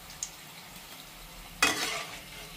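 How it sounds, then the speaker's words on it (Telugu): Maida flour sweet pieces fry in hot oil: a faint, low sizzle, then a sudden loud burst of bubbling crackle that slowly fades. "మిగిలినవి కూడా ఇదే విధంగా ఈ కలర్ వచ్చేంత వరకు ఆయిల్లో వేసుకొని వేయించుకోవాలండి."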